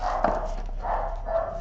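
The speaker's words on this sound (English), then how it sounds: "if you hear the dogs, I'm very sorry" Dogs barking somewhere outside, heard faintly through the walls of an indoor art class: a few muffled barks spaced across a steady background hum, no speech.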